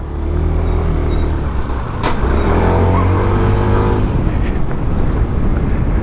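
Dense city traffic rolls past a SYM HD 300 scooter in town commuting, a steady loud roar of engines and passing cars with one sharp burst near the start, constant throughout and without speech.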